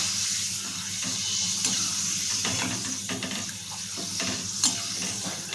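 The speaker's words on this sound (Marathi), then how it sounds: "इथे आपण तळून बघणार आहोत किती मस्त फुलला जाते बघू शकता तुम्ही" Homemade urad dal papad frying in hot oil: a constant, close hissing sizzle with a few small crackles and pops scattered through it.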